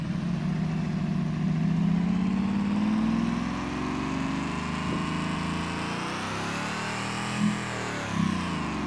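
A car fitted with a catback exhaust revs loudly and close by, the engine note rising and falling over steady drone, with a couple of brief louder blips near the end; no talking.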